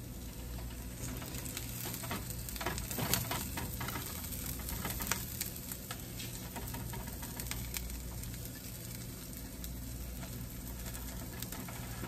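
Beef birria tacos topped with onion and cilantro sizzle steadily in a hot pan, a continuous loud frying hiss with a few scraping clatters as they are turned over.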